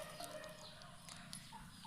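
Young chicks and hens cluck and chirp steadily while dashing toward scraps of cleaned fish, with bird calls scattered across a busy outdoor farmyard background.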